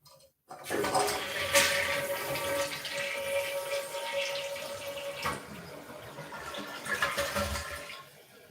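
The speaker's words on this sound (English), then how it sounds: "I'll give you a courtesy flush." A toilet flushes with a loud rushing, gurgling surge of water that holds steady for several seconds before tapering into refill trickling, close by with no talking.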